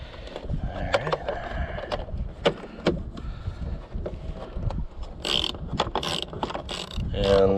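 A ratchet wrench clicks in short, uneven bursts while backing out a 10 mm bolt on a Honda Grom motorcycle during a rear shock install, close and clear amid light scraping and handling noises.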